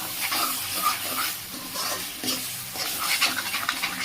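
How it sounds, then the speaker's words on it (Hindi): Chicken masala fries in a pan while a utensil scrapes and stirs it, producing bursts of sizzling and scraping strokes in an uneven rhythm, close and fairly loud, with no voices. "तो फिर भून लेंगे, मसाला जले ना तब तक हम हिलाते रहेंगे।"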